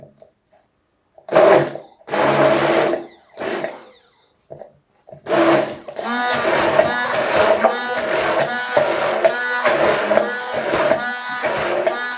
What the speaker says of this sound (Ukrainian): І буду з какао ще його блендерувати.